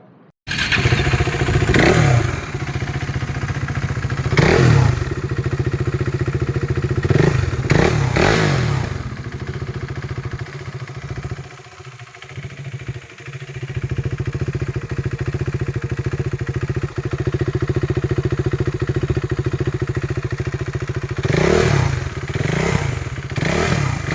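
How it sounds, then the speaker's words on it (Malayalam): A KTM Duke or RC 390 motorcycle engine idles steadily up close, with several sharp revs blipping above the idle and a brief dip partway through. "ഇതാണ് കേട്ടോ വണ്ടിയുടെ എഞ്ചിൻ സൗണ്ട്"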